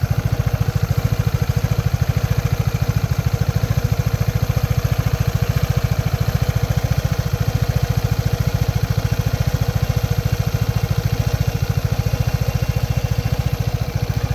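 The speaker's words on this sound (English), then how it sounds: "How's that motor sound?" A Vespa GTS 300 Super Sport scooter engine idles nearby with a steady, fast low-pitched putter and a light mechanical clatter, running evenly and without pauses throughout.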